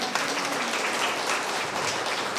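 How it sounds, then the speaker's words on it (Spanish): Audience applause at a parents' school talk, a steady dense wash of many hands clapping, loud and continuous throughout with no pauses. "Un aplauso para yo."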